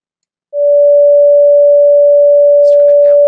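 Pure steady sine tone near C sharp, derived from the orbital rate of Venus converted to hertz, starting abruptly and holding level and loud, with a voice speaking briefly over it at the end.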